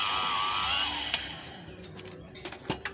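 A drill bores a deep hole into a long hard steel bolt over three feet in length, giving a steady high whine for about a second before winding down, followed by scattered metallic clicks and light knocks.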